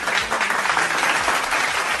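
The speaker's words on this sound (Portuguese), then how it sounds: "Editor, se puder, se você não estiver muito cansado, bota um aplauso pro Caio, por favor." An editor's inserted applause sound effect, a loud, close, dense burst of many hands clapping steadily for two seconds, with no talk over it.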